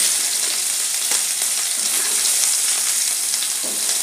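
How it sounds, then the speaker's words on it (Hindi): Garlic and green chilies frying in a pan for barley khichdi, giving a steady, dense sizzle with light stirring scrapes throughout, close and continuous with no talk. "लहसुन को गोल्डन ब्राउन करेंगे। अब डालेंगे हरी मिर्च,"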